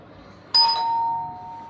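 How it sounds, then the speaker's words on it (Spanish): A single electronic doorbell chime rings out at 3 a.m., one bright tone that sustains and slowly fades over about a second, loud against a quiet background. "Pero ahora tocaron el timbre."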